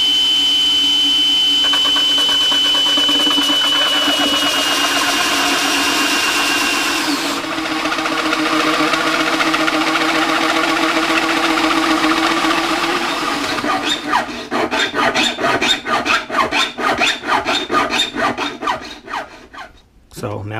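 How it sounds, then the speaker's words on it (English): Electric drill grinding and rasping through a hard plastic ice chest cooler at close range, a steady whine that turns into choppy, uneven bursts near the end. "I'm gonna drill straight through."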